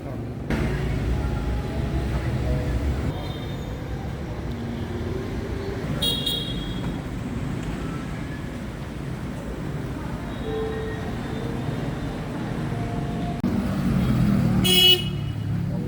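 Car horns honk in busy street traffic on steep roads in Sapa, Vietnam, with short toots scattered over a constant roadway rumble and a louder honk near the end.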